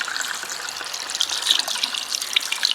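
Running tap water splashing steadily over hands being rinsed in a clinical handwashing routine, a continuous bright trickle and spatter with no talking.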